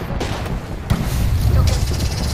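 Video game gunfire and explosive booms in rapid, dense bursts, loud and close, mixed with noisy combat sounds.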